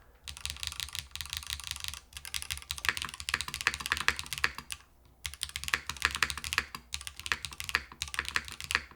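Typing on a keyboard with Hall effect switches gives rapid, close clusters of clacky keystrokes in bursts, with short pauses between runs and no talk.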